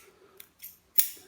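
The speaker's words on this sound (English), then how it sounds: "cut off this excess fuzzy stuff" A pair of scissors snips excess fuzz off a homemade yo-yo string three times up close, short crisp cuts with brief pauses between them, the last cut loudest.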